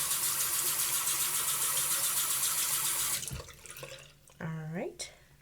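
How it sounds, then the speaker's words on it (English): A tap runs in a steady loud stream for about three seconds while a menstrual cup is rinsed under it, then stops, followed by a few clicks and a short spoken voice. "Maybe I should rinse this better."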